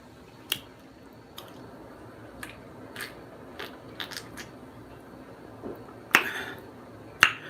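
Scattered crisp crunching and smacking clicks at irregular intervals, close up and fairly quiet, like someone chewing; no talking.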